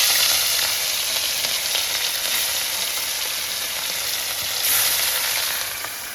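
Pieces of catla fish frying in hot oil, a dense, steady close sizzle with crackling spatters that holds fairly constant throughout and swells briefly toward the end, with no voices.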